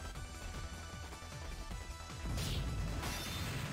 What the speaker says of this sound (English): Why does it make, like, a metal shattering sound when I hit him with fire?